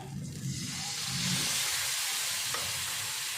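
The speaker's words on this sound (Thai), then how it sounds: "ก่อนอื่นก็ตั้งกระทะ ใส่หัวกะทิลงไปค่ะ" Coconut cream sizzles and hisses steadily in a hot pan, a close, soft frying sound with no voices.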